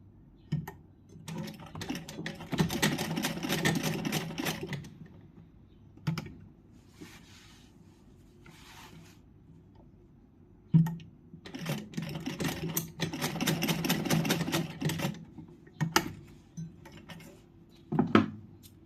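A sewing machine stitches along the top of a fabric fold for a skin outfit, running in two main bursts of rapid, rattling stitching with softer clicks and handling noises between them.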